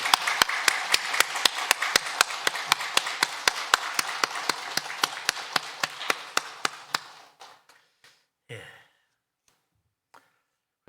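Church congregation during a Sunday worship service breaking into rhythmic unison clapping, loud and steady with a big room echo, then stopping abruptly and leaving a few scattered claps and a breathy sound.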